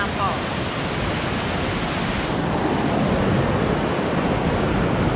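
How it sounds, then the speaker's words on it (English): Small waterfalls along a forest hiking trail at Bond Falls give a steady, broad rushing roar, close and continuous with no breaks, while a faint voice sits under it at the start. "along the way, there's all of these littler waterfalls throughout"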